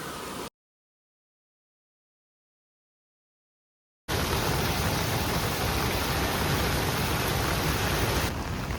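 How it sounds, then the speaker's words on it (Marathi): Heavy rain pours at a river beside a temple in Badlapur, a loud dense steady hiss after a brief opening burst and several seconds of silence, with no talk. "दादा पाऊस बघा एवढा पडतोय ना"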